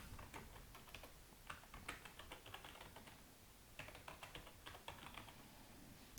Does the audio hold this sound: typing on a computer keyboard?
yes